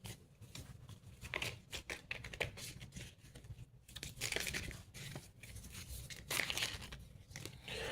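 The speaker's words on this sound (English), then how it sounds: "I'm just shuffling the cards so they'll be nice and shuffled again." Uno No Mercy playing cards are shuffled up close, giving a fast run of riffling, flicking and crackling card noises that keeps going with no talk.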